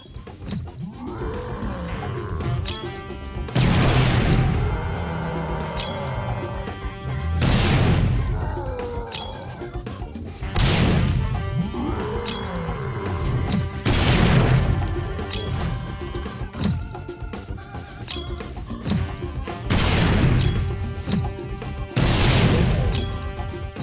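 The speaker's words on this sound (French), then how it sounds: "Sur le ring, j'invoque une tonne de démolisseurs et je vais les bombarder à la grenade." Heavy grenade blasts boom one after another at roughly three-second intervals, each loud crash decaying into a rumble, as demolisher zombies are bombarded in the survival game 7 Days to Die.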